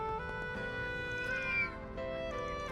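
A cat meows in the video game Trails Through Daybreak, giving a few short, clear meows over a steady bed of tonal game music.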